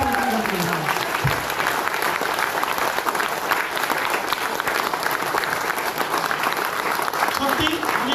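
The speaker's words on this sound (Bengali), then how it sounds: "ওনাদের জন্য একটা করতালি দেবো" A seminar audience claps loudly and steadily for several seconds, a dense continuous wash of hands, while a voice briefly speaks over the start and the end.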